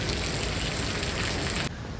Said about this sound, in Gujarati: આ સાઈડ પર ગાઈસ વરસાદ પણ ચાલુ છે